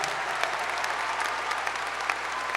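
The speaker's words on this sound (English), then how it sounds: "How about a round of applause for all of our magna cum laude students?" A high school graduation audience applauds magna cum laude graduates with steady, dense clapping throughout, loud and continuous with no voices on top.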